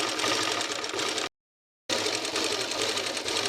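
A sewing machine stitching a petticoat, a fast, even mechanical chatter that runs loudly, stops dead for about half a second, then resumes at the same pace, heard up close with no talking.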